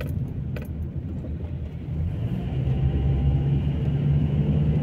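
Steady low rumble of a car cabin while driving on roads in Luton, UK, a continuous engine and road drone that grows slightly louder toward the end, with no talking.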